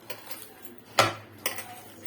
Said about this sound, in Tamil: நல்லா இந்த மாதிரி கலக்கிக்கோங்க